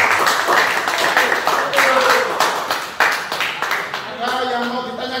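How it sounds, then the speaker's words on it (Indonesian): A classroom group claps for fellow students after a presentation, brisk scattered applause lasting a few seconds, mixed with people talking over it. "kita kasih tepuk tangan dulu untuk kelompok"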